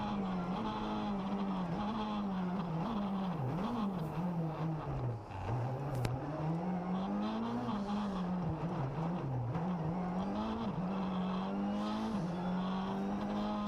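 Rally cars race flat out on a tarmac circuit stage of the Dukeries Rally, a Citroen C2 among them, engines howling steadily at high revs with pitch rising and dipping through a 90-degree left-right combination and down the start-finish straight.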